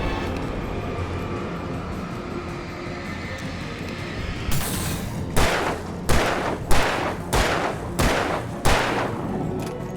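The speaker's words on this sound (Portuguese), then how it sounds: "tudo tiro na cabeça" Gunfire in the survival horror game Alan Wake Remastered on nightmare difficulty: after a stretch of dark ambient rumble, about seven loud, sharp shots ring out at roughly half-second intervals, each with a short decaying tail.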